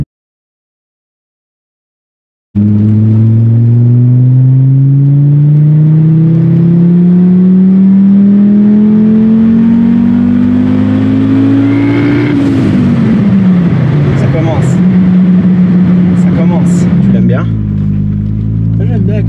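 A loud turbocharged Audi engine revs up steadily on boost for several seconds, pitch climbing, then drops back and settles into a rough, fluttering idle.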